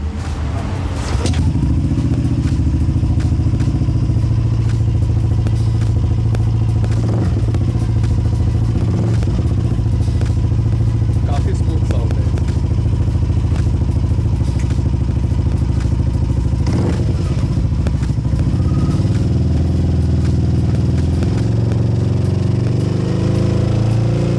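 A Yamaha Aerox 155 scooter fitted with a superbike exhaust idles and revs steadily, a loud, close, continuous engine drone with occasional clattering thumps, and no talking.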